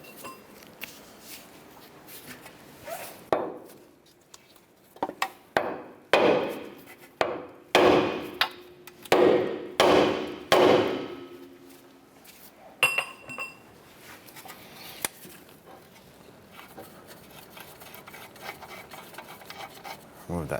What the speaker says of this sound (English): At this point here, we want to go ahead and strike our knuckle